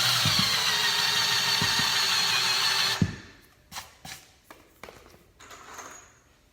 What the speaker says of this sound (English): So first I'm gonna drill out this hole for the head of my screw.